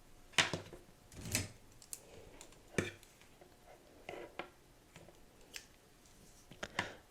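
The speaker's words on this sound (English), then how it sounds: "So I'm actually just going to snip that off." Small scissors snip off the yarn end of a crochet velvet scrunchie, a handful of crisp, close, quiet cuts spaced about a second apart against a hushed background.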